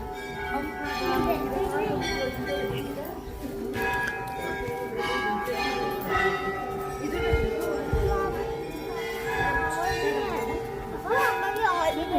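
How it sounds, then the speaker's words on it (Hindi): Bells hung at Chitai Golu Dev temple in Almora ring with clear metallic tones among crowd ambience, while people talk over them throughout. "यहाँ पे तो घंटियाँ बंधी हुई हैं।"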